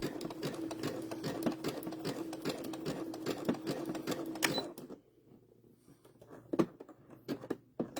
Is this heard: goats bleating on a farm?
no